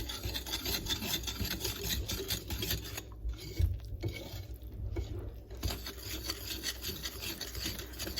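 A wet rye sourdough mixture with salt is stirred in a bowl, making a continuous close rubbing and scraping that continues unbroken, with a brief quieter stretch midway.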